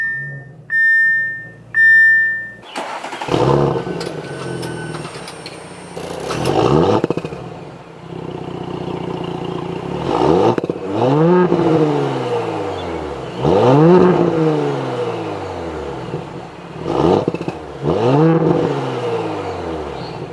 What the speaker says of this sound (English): with my foot on the brake, I can go ahead and start it up